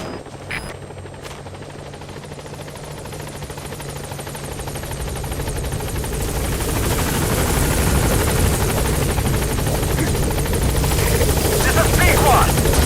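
A B-Quad helicopter in Metal Gear Solid V arriving at a landing zone, its rotor thrum building steadily louder as it approaches, with a radio voice talking over it.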